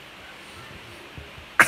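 A single quick sneeze bursts out at the very end during birdhouse making indoors, sudden, loud and close after a quiet stretch.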